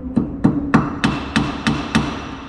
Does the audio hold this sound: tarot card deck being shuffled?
no